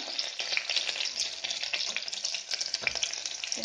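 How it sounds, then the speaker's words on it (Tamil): Small onions fry in a hot pan, a loud, close, continuous crackling sizzle with bursts of spitting and occasional stirring, no voices. "இந்த வெங்காயம் கொஞ்சம் வதங்கட்டுங்க."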